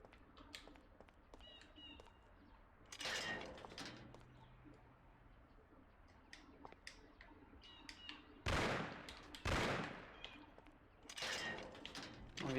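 A few sharp gunshots from a 12-gauge shotgun in the video game Mafia crack out over a quiet background, spaced apart, each a loud, brief blast standing alone.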